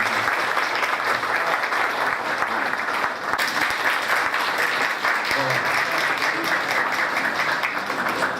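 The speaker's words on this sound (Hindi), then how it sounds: "आप उतनी तालियां ज़रूर दीजिए" Sustained audience applause fills a hall at an Urdu academy cultural program in Bhopal, a dense, steady wash of clapping held at even loudness throughout.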